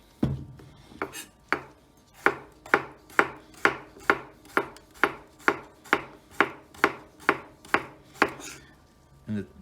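A knife slices vegetables into thin pieces on a cutting board for a raw Asian seaweed noodle dish, about fifteen sharp, evenly spaced chops in a steady rhythm, close and clear, with no talking.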